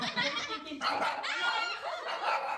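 Three Dalmatian dogs bark in quick bursts, close and fairly loud, with short yips and overlapping barks across a couple of seconds.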